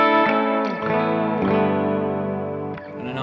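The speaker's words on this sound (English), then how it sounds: "Like throw a little bit of reverb on it or something." An electric guitar played through a reverb effect pedal on a pedalboard rings out in sustained, distorted chords that shift a few times, each wash of sound trailing off with spacious reverberation.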